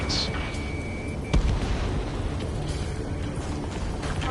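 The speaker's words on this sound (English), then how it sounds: "Gunfire and the roar of jets echoing through the streets." Ace Combat 7 game audio of a city under martial law: a dull, continuous jet-engine roar with a sharp burst of gunfire partway through, loud and close, while voices talk briefly over it.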